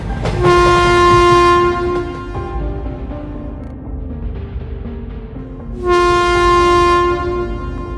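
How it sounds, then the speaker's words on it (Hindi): Animated cartoon train braking to a sudden stop, loud sustained horn blasts at the start and end over heavy rumbling and screeching wheels, no talk. "तभी अचानक ट्रेन रुक जाती है"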